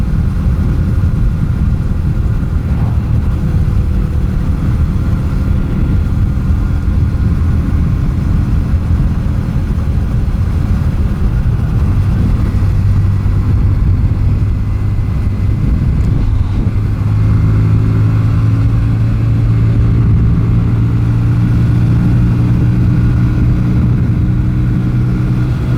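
A Yamaha XV250 bobber fitted with a 17-tooth front sprocket and a 17/45 ratio drones steadily while riding, its low engine note loud and continuous under heavy wind rush, with the pitch rising in the second half.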